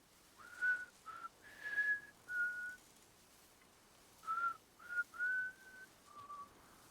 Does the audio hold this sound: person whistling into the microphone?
yes